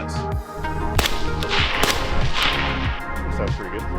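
Several shots from a suppressor-fitted gun crack out in an uneven sequence outdoors, sharp reports mixed with thuds and lingering echo, loud and fairly close.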